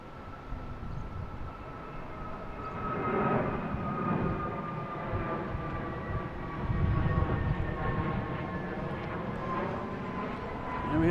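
Aer Lingus Airbus A321neo departing Boston Logan for Shannon: a sustained engine roar with steady whining tones that swells and fades in waves, moderately distant, with some faint talk in the background.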